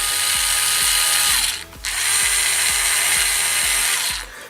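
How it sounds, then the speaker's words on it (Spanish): Battery-type screwdriver powered from an old 5-volt mobile phone charger runs with a loud, continuous mechanical whir and rhythmic ratcheting clicks, close up, with one short break partway through. "cuando lo conecto a un enchufe, pues este atornillador"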